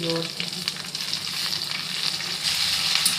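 Tomato and vegetables sauté in hot oil with mustard seeds, a steady close crackling sizzle with faint stirring scrapes throughout.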